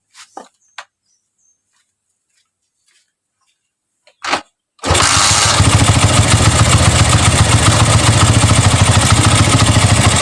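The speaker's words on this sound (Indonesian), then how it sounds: "kita nyalakan mesin" A Honda Mega Pro motorcycle engine catches after a few faint clicks and a brief crank, then runs at a loud, steady, close idle through the rest of the clip.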